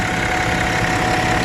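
A BMW X5 E70 40d diesel engine with a healthy timing chain idles steadily, a smooth, even mechanical hum with no knocking, heard alone for a brief stretch.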